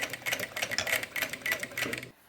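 A sewing machine stitches along the curved edge of a fabric zip pouch and finishes with a backstitch, giving a rapid rhythmic clatter of bursts up close, then stopping.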